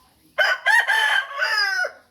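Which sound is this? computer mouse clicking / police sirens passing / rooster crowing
rooster crowing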